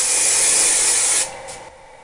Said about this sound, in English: Shake your hairspray.